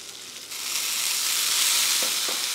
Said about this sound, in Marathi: हे छान परतवून घ्यायचं आहे आपल्याला.